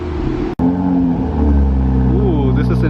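A 2020 Toyota Supra's HKS exhaust idles in normal mode with a deep, throaty rumble nearby, then swells as the engine revs up.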